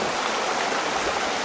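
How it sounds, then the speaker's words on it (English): A river with rushing water gives a steady, broadband wash of flowing noise, close and even throughout, with no voices or other sounds. "catch fish in a river with rushing waters"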